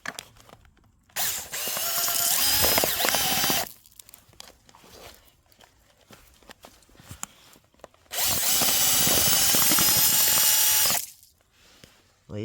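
A cordless screwdriver spins a petrol-soaked rag to clean a Renault Express 1.1 coolant part, in two long, loud whirring bursts separated by quieter clicks and handling noise.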